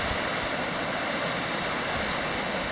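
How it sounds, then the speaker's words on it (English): Gable Creek in the Sierra Nevada, running high, sends up a continuous, broad rushing roar of water heard from at least 100 feet above, steady and fairly loud with no voices. "Wow, look at Gable Creek running. You can hear it loudly from here."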